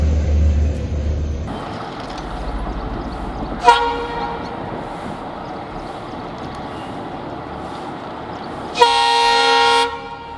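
A train horn blares in two loud sustained blasts, one brief and one longer near the end, over the steady rumble of a passing train as a car crosses the tracks ahead.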